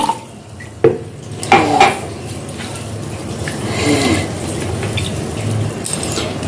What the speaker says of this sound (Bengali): এ আমি চাল নিয়েছি এটাকে ধুয়ে নেব ভালো করে